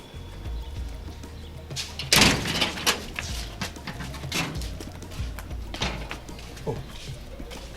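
A door is shut with a loud thud, followed by scattered knocks and rattles and faint background voices.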